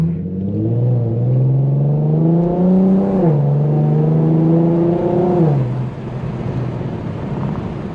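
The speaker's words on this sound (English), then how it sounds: "I love listening to the exhaust." A tuned E85 Infiniti Q50's engine drones steadily through its exhaust on a night drive, pitch climbing as it accelerates, dropping at a shift, then rising again before easing off to a low rumble.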